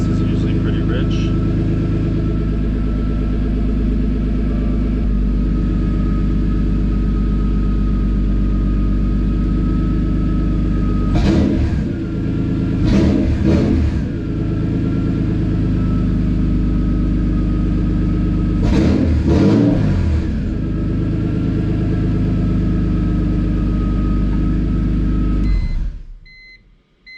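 A turbocharged BMW E46 M3 S54 engine idles on a rich cold start with a steady low rumble throughout, a few brief louder bursts of noise, and people talking over it now and then.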